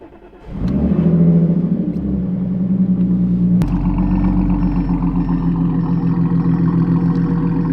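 An Audi car engine starts and settles into a steady, loud idle rumble close by, with a brief rev near the start and a sharp clunk partway through, then continuous running without talk.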